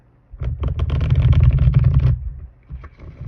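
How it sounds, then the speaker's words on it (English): Tarot cards being shuffled, a dense riffling flutter lasting under two seconds, followed by a few soft handling clicks, heard close with no talk. "Let me give these one more shuffle."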